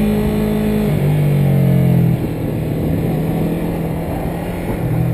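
A Yamaha MT03 motorcycle is ridden on a racing circuit, its engine a loud, steady drone that holds a sustained note and then dips as the revs change, heard up close with no talking.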